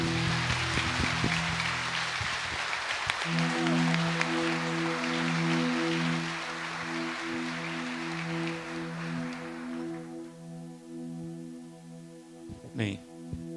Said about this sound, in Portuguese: Quero pedir uma salva de palmas ao Senhor Jesus Cristo.